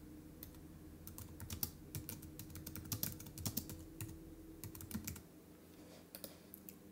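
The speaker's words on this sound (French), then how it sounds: "on double-clique pour écrire dessus" Quiet typing on a computer keyboard, a steady run of soft, irregular key clicks for several seconds before the tapping stops, with a faint hum beneath.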